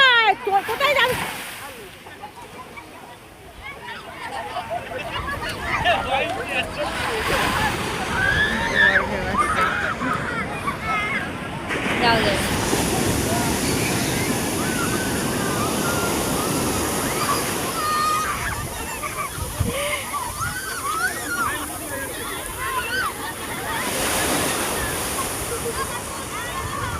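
Sea waves at Puri beach wash and splash continuously, a loud, close, steady rush of surf with bursts of breaking water, while people talk and call out over it.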